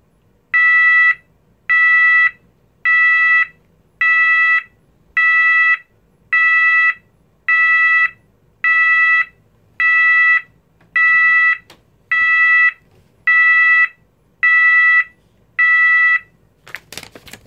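An E2S A100DC24R sounder gives a loud, bright 544 Hz intermittent tone: about a dozen evenly spaced beeps of roughly equal length, repeating steadily with short silences between them and no other sound around them.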